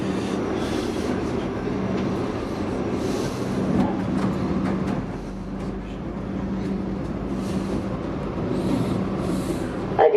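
Inside a V/Line locomotive-hauled train with H-set carriages pulling into Lara station, a low rumbling drone with rhythmic wheel clatter over the rails, steady and close, easing slightly as it slows, with faint voices in the background.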